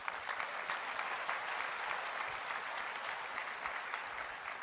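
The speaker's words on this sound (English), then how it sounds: "So give yourself a round of applause, please." A large audience at an Apple live keynote event in June 2015 claps in a steady, dense wash of applause, evenly sustained for several seconds without voices.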